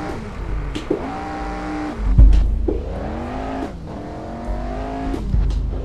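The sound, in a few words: historic F1 race car engine in a racing video game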